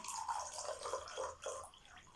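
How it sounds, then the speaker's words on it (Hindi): Water pours into a glass in a home kitchen, a soft, close gurgling trickle with a few rising bubbly pulses over about two seconds, quiet and without talk. "और इसमें भी पानी डाल लेते हैं"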